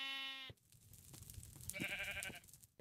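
Sheep in the Minecraft video game let out two distinct bleats, one at the start and one later, separated by quieter background rustling.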